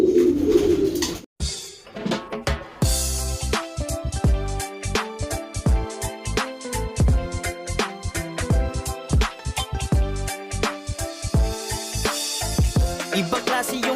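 Breeding pigeons coo in a loft, their repeated throaty calls overlapping in uneven rhythm, close and fairly loud, alongside scattered clicks, flutters and knocks throughout.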